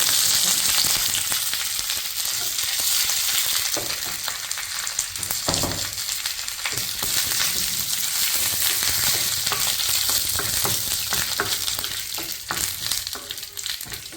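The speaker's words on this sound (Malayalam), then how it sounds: "ഞാൻ എരിശ്ശേരിയിൽ കടുക് വറുത്ത് ചേർക്കാറുണ്ട്" Mustard seeds spluttering in hot oil crackle and pop close up, with dense, irregular bursts over a continuous sizzle that runs throughout.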